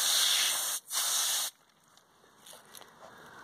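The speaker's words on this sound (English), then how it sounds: "I'll spray the outside of the filter and get a lot of the larger debris that's caught" A garden hose sprays hard against the cartridge filter of a Summer Waves Elite above-ground pool, rinsing off debris. The close, loud hiss briefly cuts out, resumes, then stops, leaving quieter trickling and dripping.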